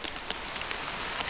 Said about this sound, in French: C'est plus de la pluie, c'est de la grêle